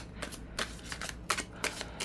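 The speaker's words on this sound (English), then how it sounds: "I know this is a horrible way to shuffle." Tarot cards being shuffled by hand, a series of sharp riffling bursts at an uneven rhythm with short pauses between them, close and fairly loud.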